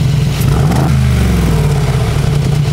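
A Mercedes G63 AMG exhaust in its standard muffler setting idles with a deep, steady, throbbing rumble close by, briefly rising in pitch as the engine revs.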